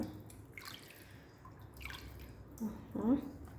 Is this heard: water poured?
yes